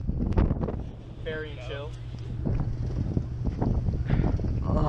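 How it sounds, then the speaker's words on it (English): Strong wind in Seattle buffets the microphone with a constant low roar and gusts, while a voice speaks briefly over it. "The wind here is unbelievable. It's just so windy."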